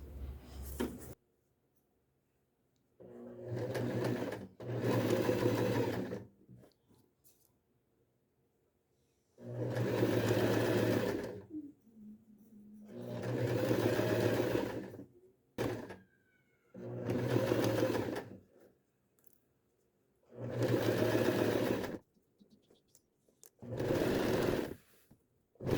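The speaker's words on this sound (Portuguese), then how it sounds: "Vou começar a minha costura por aqui. E vou dar a volta nela." A sewing machine stitches around a plush pencil case in five or six bursts of steady whirring, a few seconds each, with quiet pauses between them.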